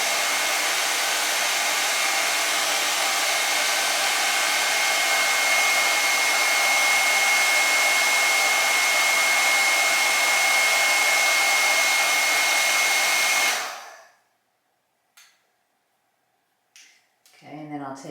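A hair dryer on high heat blows steadily and loudly on a wavy wig for about fourteen seconds, then shuts off, leaving near silence with a few faint clicks and handling noises.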